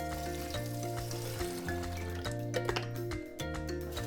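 Water pours steadily into a container holding coarse salt for kimchi brine, a continuous close splashing and gurgling flow that holds at an even level throughout.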